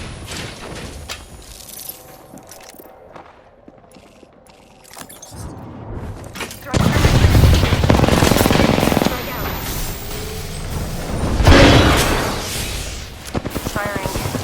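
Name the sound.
gunfire in the Apex Legends video game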